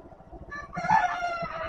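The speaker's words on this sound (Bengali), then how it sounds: "এখানে মুরগিও আছে।" Village chickens and a rooster sound off outdoors. Soft clucking leads into a short, fairly near crow that carries over faint background noise.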